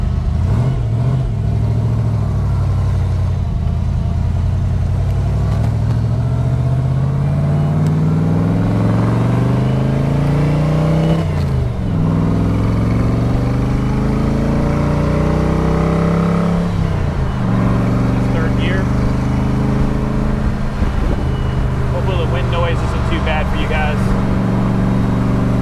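A 1965 Factory Five Cobra's engine runs loud and steady while driving, its drone rising and falling through repeated accelerations and gear changes, continuous and close throughout the clip.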